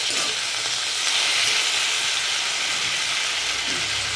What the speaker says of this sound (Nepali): म टमाटर हाल्छु अनि अहिले एकछिन पाक्न दिन्छु